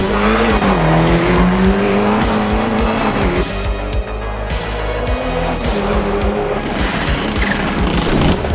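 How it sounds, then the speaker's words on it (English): A rally car engine in the racing game Assetto Corsa Rally roars loudly and continuously, revving up and shifting gears over gritty road noise. "this is quite the loud vehicle"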